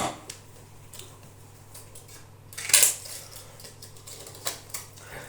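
Scissors snip gelatin sheets into small pieces with a few sharp, close clicks and one louder crisp cut, the strokes spaced irregularly over a faint steady hum.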